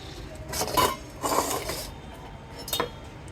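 A fork scrapes and clinks against a dish while mashing soft boiled potatoes, producing a few short, close metallic scraping bursts separated by quiet gaps.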